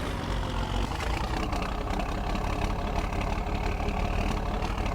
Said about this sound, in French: Il fait un boucan ce tracteur quand même, c'est incroyable hein.